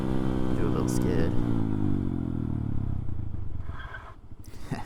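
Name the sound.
Honda Grom motorcycle doing a rear-wheel skid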